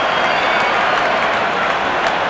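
Stadium crowd applauding a batsman's fifty during an India vs New Zealand T20 cricket match: loud, continuous, dense clapping and crowd roar across the whole stretch.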